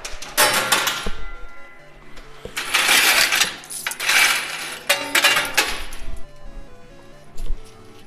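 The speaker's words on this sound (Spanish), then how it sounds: "Para que se acomoden monedas. Acomode toda la alfombra de monedas." Coins tumbling and clinking inside a coin pusher arcade machine, several bright metallic cascades of jingling coins in bursts with short pauses between, close and loud, no talk.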